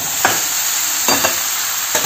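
Vegetables stir-fry in a kadai with a constant close sizzle, broken by three quick scraping strokes of a spatula against the pan.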